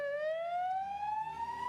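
An ambulance siren in Lebanon after a deadly attack, sounding as a single loud, clear wail that rises steadily in pitch over nearly two seconds.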